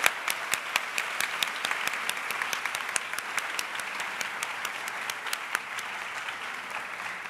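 Sustained, steady applause from an audience at a school district convocation honoring the 2015 class of Ohio master teachers, with sharp individual claps standing out throughout.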